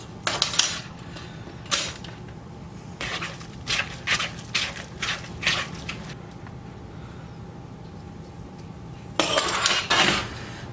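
Xanthan gum is worked into a crumble mixture in a bowl with a utensil, producing bursts of scraping clinks and knocks against the bowl, separated by quiet pauses and clustering again near the end.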